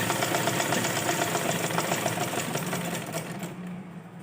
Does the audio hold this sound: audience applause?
no